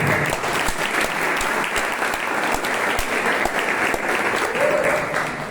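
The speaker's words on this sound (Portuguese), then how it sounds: "Peço uma salva de palmas" Steady applause from a seminar audience at an academic certificate presentation, continuous clapping at even loudness for several seconds.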